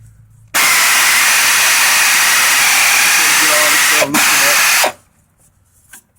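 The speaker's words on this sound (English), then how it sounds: "Loosen up this bolt here." Air-powered impact tool loosening a car's lower control arm bolt during a coil spring swap, a loud sustained hissing whir of about four seconds with a brief dip near the end, then stopping abruptly.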